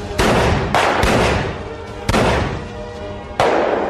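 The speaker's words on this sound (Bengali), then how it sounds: "এরপর শুরু হলো মৃগাঙ্ক আর সাহেবের দেহরক্ষীর মধ্যে গুলির লড়াই" Four loud gunshots from a gunfight crack out at uneven intervals, each leaving a long booming echo that fades before the next.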